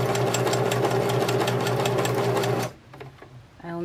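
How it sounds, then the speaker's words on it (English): Sewing machine stitching burlap along the edge of a shabby chic Christmas stocking, a loud steady whirring drone for almost three seconds that then stops abruptly, leaving faint handling noises. "I'm just going to tack this down right along the edge so I don't have to think about it when I'm sewing"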